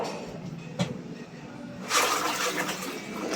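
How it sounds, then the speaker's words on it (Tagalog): Rice is washed with water in a basin, a soft swish and slosh of grains and water close by, building into a fuller pour-like rush near the end, no talking. "maghuhugas muna ako ng bigas"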